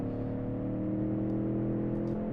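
A convertible's engine in the car-building game Automation, a steady droning hum with layered harmonic tones held at an even pitch, continuous and fairly loud with no talking.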